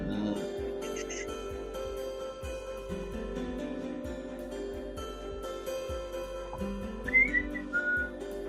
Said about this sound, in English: Oh, I whistled then, but there we are.